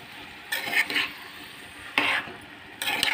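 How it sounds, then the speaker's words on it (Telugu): Fried shrimp and cucumber pieces are stirred in a sizzling pan, with three short scraping bursts of the spoon over a low background fry. "దోసకాయ ముక్కలన్నీ వేసేసుకున్నాం కదండి. ఒకసారి కలుపుకుందాం."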